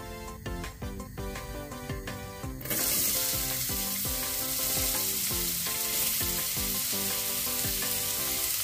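Onion frying in hot oil in a pan for Goan crab xec xec curry: a loud, dense, steady sizzle bursts in after a few seconds over a background of music and holds to the end.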